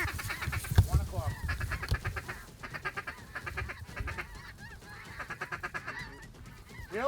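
Mallard ducks and geese call over decoys during a Manitoba waterfowl hunt, with rapid quacks and honks repeating in bursts at moderate distance and a low voice heard briefly near the start.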